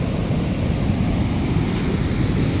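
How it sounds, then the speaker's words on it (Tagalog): Strong river current rushes past downstream of Wawa Dam, a loud, steady roaring wash of water with constant low rumble and no speech. "Yung ilog na yan, papunta ng Marikina yan."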